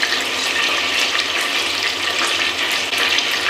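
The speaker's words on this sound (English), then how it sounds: "I'm just going to pour some of the stock into the spinach" Vegetable stock poured into spinach in a kitchen, a steady close liquid splash and trickle running continuously and fairly loud with no talk.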